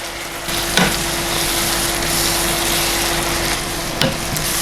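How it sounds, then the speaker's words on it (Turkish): Green onion sizzles steadily in a hot pan as it is sautéed, with a continuous frying hiss and a couple of sharp knocks from stirring against the pan. "Bir parça kavurduktan sonra yeşil soğanı ekleyelim."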